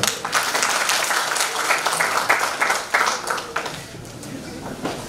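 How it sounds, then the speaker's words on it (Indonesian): Audience applause following a presentation at an exhibition event, a loud, close wash of many hands clapping that holds steady, then eases and tapers off toward the end. "Tepuk tangannya."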